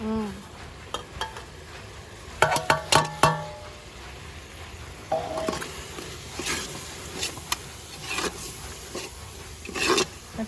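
Spice masalas are stirred into vegetable biryani in a pan: irregular scraping and clinking of a spoon against the vessel, separate sharp knocks between gentler stirring, over a soft sizzle.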